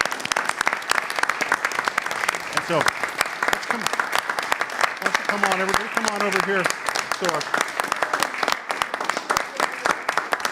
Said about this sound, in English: we should give this crew a big round of applause.